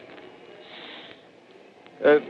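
A voice imitates a hissing sound like a Fourth of July rocket: a long breathy hiss, then a brief sharp snort-like burst of breath near the end.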